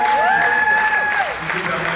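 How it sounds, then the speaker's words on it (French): Audience applause at an equestrian honours ceremony, steady crowd clapping over two seconds with a sustained tonal sound gliding above it, likely music or a voice carrying through the hall. "on peut applaudir Juliette Blecker et Neuf."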